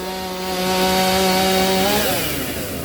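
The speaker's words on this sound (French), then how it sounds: "un passe-partout, que l'on appelle également le single buck" Long two-man crosscut saw with American-style teeth, about 1.8 to 2 metres long, cutting through wood in a loud, steady rasping stroke that rises and shifts near the end.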